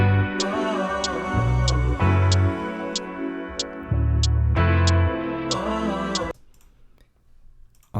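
A sampled hi-hat ticks crisply on every downbeat, evenly spaced over a looping beat with deep bass and a sustained chordal backing; the music drops out near the end, leaving faint noise.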